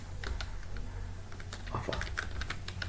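Typing on a computer keyboard while building a website in HTML and CSS: steady, rapid key clicks sit under a constant low hum at moderate volume, with no talking.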